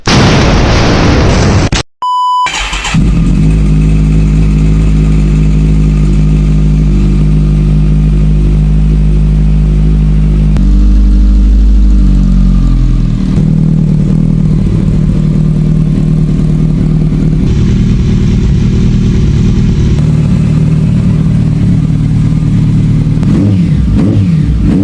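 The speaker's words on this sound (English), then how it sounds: "Start up just to check oil level." A Kawasaki ZX14R sport motorcycle engine starts with a sharp pop after a brief silence, then settles into a loud, steady idle close by, with a few throttle blips and revs rising midway before returning to idle.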